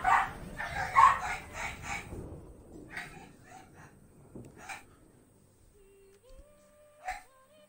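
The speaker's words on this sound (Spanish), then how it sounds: "Maldito perro." Dog barking in The Witcher 3 video game, a burst of loud close barks and yips at the start, then fainter scattered barks and whimpers over quiet game ambience.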